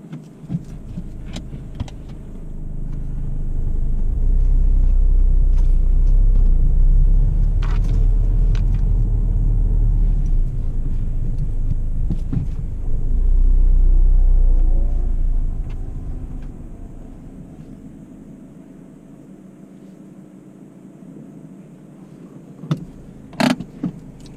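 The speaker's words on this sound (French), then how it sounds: "Positionnement de la voiture dans l'alignement de la remorque." A car engine rumbles nearby as the car slowly manoeuvres into line with a trailer, the low drone swelling and fading, ending with a few faint clicks.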